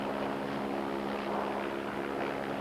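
A rescue helicopter hovers during an operation on the Eiger north face, its rotor and engine making a steady, even drone that stays constant throughout with no voices.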